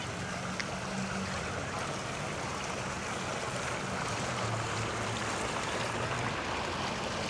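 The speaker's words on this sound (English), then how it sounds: "And a gorgeous water feature." Flowing water from an outdoor water feature in a town square in Seguin, Texas, a steady broadband rush of splashing and trickling heard close and continuous, with a faint low hum and a brief clink early on.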